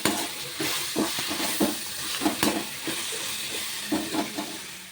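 Tomatoes and ginger garlic paste sauté in hot oil for a home-style Tamil chicken kulambu, giving a steady loud sizzle and hiss with repeated stirring clacks and scrapes throughout.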